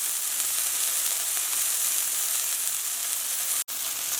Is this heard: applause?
no